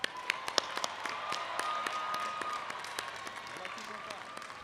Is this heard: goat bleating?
no